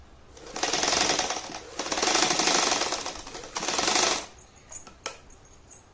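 A sewing machine stitches a purse zipper in three loud, steady mechanical runs separated by short pauses, followed by a few sharp clicks and knocks.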